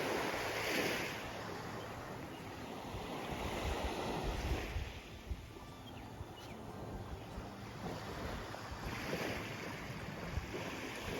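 Surf washes onto Sayang Beach on Koh Lanta, Thailand, a continuous wash of waves breaking and receding with wind buffeting the microphone, no voices.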